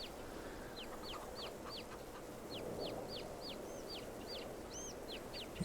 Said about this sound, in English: Get fed, you lovely, lovely chickens, you.